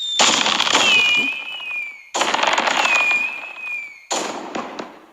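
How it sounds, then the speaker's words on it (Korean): Three successive fireworks bursts, each a whistling rise then a dense crackling explosion lasting a second or two, loud and close with no talk, from a fireworks display made by a science teacher. "자, 이게 바로 선생님이 만든 불꽃놀이에요."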